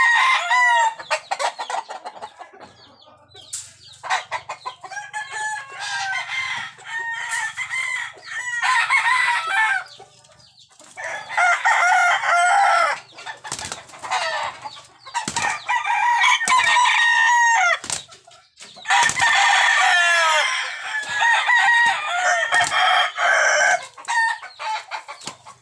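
Gamecock roosters crow repeatedly, loud and close, with clucking chickens between the calls and no talking.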